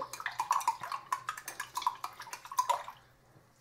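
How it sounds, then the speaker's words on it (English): A tablespoon stirring homemade hairspray in a container, making quick, light clinks and liquid swishes in a steady busy rhythm that trail off near the end; fairly faint, with no talking. "I'm just gonna use my tablespoon to stir it up here."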